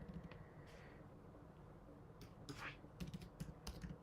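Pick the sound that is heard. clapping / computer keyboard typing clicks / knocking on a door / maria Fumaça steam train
computer keyboard typing clicks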